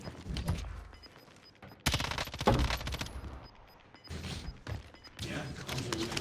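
Rapid Uzi submachine gun fire in the Warzone video game, bursts of dense automatic shots crackling in several loud clusters, with brief pauses and a faint voice mixed underneath.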